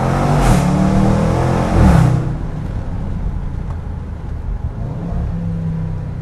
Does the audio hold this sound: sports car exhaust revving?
yes